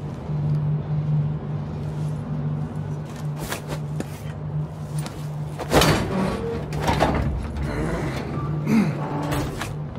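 A mechanical door slides open in a CrossfireX video game cinematic, heard as a whooshing, grinding rush with metallic clunks over a low humming ambience, with scattered knocks around it.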